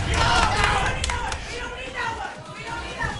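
Spectators at a live fighting game tournament in a bar shout and cheer together, a loud burst of overlapping voices that fades into murmuring chatter.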